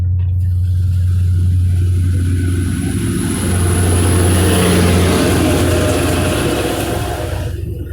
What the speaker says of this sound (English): Jeez, this log truck's fixing to blow past my ass.